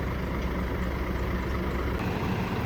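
A heavy truck engine rumbles steadily at close range while towing a stuck double-decker coach through knee-deep floodwater, a continuous low drone with no talk.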